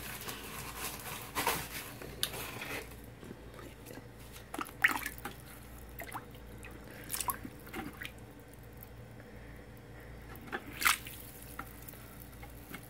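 Water poured into a hermit crab tank onto brick substrate, soft drips, squishes and trickles coming in small irregular bursts, quiet and close, with no talking.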